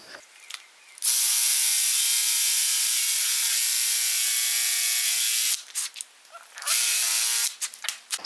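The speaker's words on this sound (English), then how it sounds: "I'm going to drill quite fast, but I'm not going to apply too much pressure" A power drill spins fast, boring a shallow washer recess into wood cladding for a camper van conversion; a steady high whine runs for about four seconds, stops, then returns briefly, with pauses between bursts.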